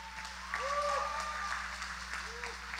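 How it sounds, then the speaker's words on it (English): Festival audience applauding a square dancer at the Pipon Festival Square Dance Competition, a steady moderate wash of clapping heard from a distance with a faint voice or tonal sounds over it. "Give her a round of applause."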